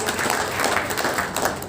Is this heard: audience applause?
yes